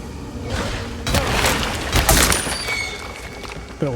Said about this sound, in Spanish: Iba a pegarle otro tiro de escopeta